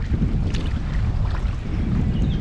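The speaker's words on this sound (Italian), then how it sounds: "Leggero vento." Steady low rumble of light wind buffeting the microphone outdoors on the water while kayaking near a bridge on Lake Fiastra, with a constant gusty roar and no voices.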